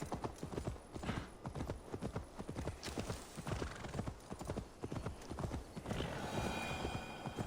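Horse hooves clip-clop at a steady trot in Assassin's Creed Valhalla, with a brief whinny near the end, moderately close and alone.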